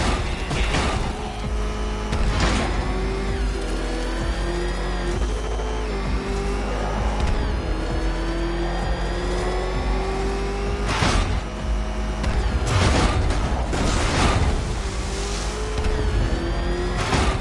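Race car engine in a PS4 racing lap, a steady loud drone with a rising, sweeping pitch as it revs, plus occasional bursts of game noise, with no talking.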